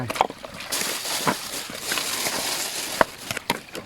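Rice being washed in stream water outdoors, with soft sloshing and splashing throughout and a few sharper splashes, fairly close.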